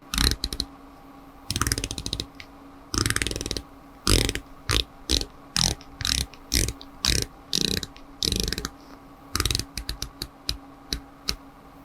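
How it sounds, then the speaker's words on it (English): Doxa SUB 300 Beta dive watch bezel turned by hand, giving crisp ratcheting clicks in short bursts and single clicks with brief pauses, close and fairly quiet. "Now let's go ahead and give this fascinating bezel a click test."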